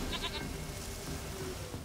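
Goat in The Witcher III giving a few short, faint bleats early on, heard over quiet ambient game noise.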